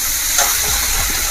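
Tomatoes hit a hot tempering for restaurant-style tomato dal, giving a loud, steady sizzling hiss that carries on without a break and has no talking over it.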